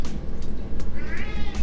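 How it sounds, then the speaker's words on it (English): A pet cat meows indoors, a short drawn-out cry rising near the end over a low room background, close to the microphone. "Sorry, my cat."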